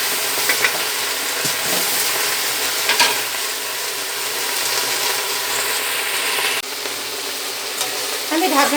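Black taro pieces sizzle and fry steadily in a pan with already-fried onions, a continuous close hiss broken by a few stirring scrapes and clatters.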